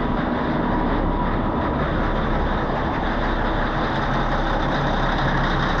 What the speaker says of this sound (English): you're going to hear that rear engine start to rev up.